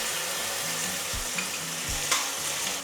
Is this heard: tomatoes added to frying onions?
yes